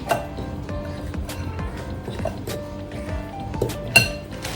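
Whole wheat flour being mixed into banana bread batter in a bowl, with scattered soft clinks and scraping taps of a utensil against the bowl and one sharper clink near the end, fairly quiet and close.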